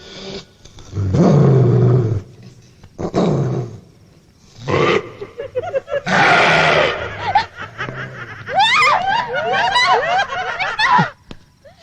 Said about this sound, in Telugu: కుక్క నవ్వుతోంది